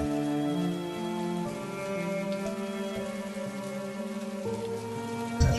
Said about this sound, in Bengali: কে জানে বৃষ্টি থামবেই না